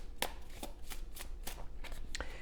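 Tarot cards shuffled and drawn: a series of about eight quick, crisp papery snaps and flicks spaced irregularly, close and fairly quiet against a soft background.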